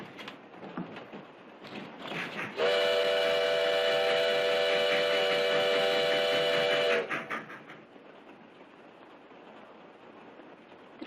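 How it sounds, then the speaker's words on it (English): A steady, loud train whistle blares for several seconds over a rumbling, rattling background of a moving train. "The train goes so fast. 30 miles an hour."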